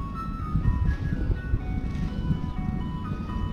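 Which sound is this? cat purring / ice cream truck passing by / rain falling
ice cream truck passing by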